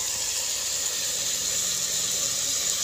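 A steady sizzling hiss as a little water is poured into a hot pan of sautéed papaya, holding at an even level throughout with no talking.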